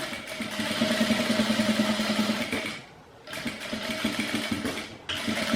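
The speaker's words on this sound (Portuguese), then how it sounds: "E faz um pesponto bem bonitinho aí, tá? Dá um retrocesso no início." A sewing machine stitches a topstitch with a backstitch, close and steady with a rapid mechanical chatter, pausing briefly twice before starting again, with no talk.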